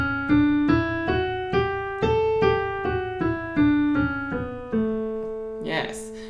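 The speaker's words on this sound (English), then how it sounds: "Moving on to our dominant scale." A singer climbs a dominant scale with a flattened seventh, eight sustained sung notes stepping evenly upward and then back down, clear and close over a soft accompaniment.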